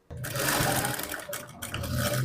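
A sewing machine runs a continuous stitch along fabric for a frock made over from a blouse, a steady close whirring hum broken by one brief pause, with no talking.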